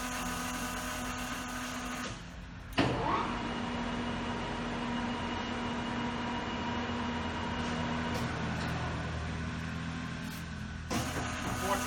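A LeBlond 19-inch by 78-inch engine lathe runs at 310 RPM, giving a steady mechanical hum and whine that holds evenly for about ten seconds between brief shifts at the start and end.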